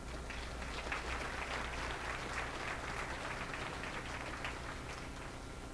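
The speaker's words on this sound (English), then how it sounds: "So let's give them a round of applause, please." Audience applause at an economic kickoff luncheon, a steady wash of many hands clapping that sounds fairly distant and quiet in a large room, sustained for several seconds with no voices over it.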